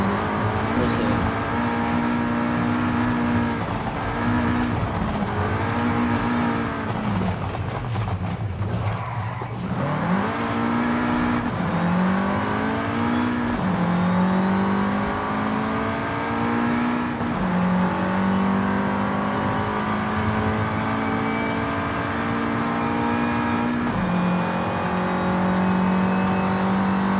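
Volkswagen Golf R 2014 with a 2-liter engine on racing slicks revs hard on dirt, climbing and dropping through gears in a steady loud drone with rising pitch sweeps, and a voice talks over it.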